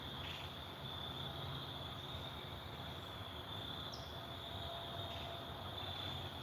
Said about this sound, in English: The frogs and the crickets and the birds are singing for us as we sit here